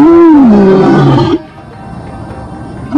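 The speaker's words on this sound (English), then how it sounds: "Lions do have the biggest roar in the cat family." A single lion's roar, loud and close, rumbles for over a second with rich harmonics and then breaks off, leaving a low, faint outdoor hush.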